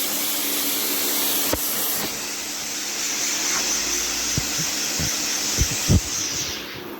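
A Karcher K3 pressure washer sprays a dirty paving floor with a steady, loud hissing jet, broken by a few short knocks and splashes as the nozzle moves across the surface.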